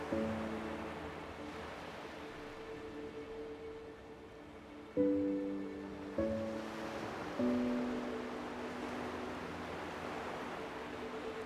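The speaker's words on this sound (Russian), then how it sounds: "Теплый вечерний бриз, океан, закат, пальмы." Ocean surf washes steadily on the Malibu coast on a warm evening, forming a soft, even wash throughout, with faint tonal sounds layered over it.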